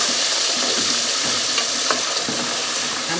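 Potatoes and garlic fry in a pan over a lowered flame, a steady close sizzle broken by several scraping stirs.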